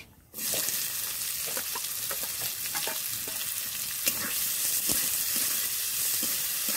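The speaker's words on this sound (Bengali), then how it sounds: "পেঁয়াজটা ভালো করে ভেজে নেব" Whole cumin and chopped onion hitting hot oil in a pan, an abrupt burst into loud, dense sizzling that then holds steady and bright, with scattered clicks and pops of stirring close by.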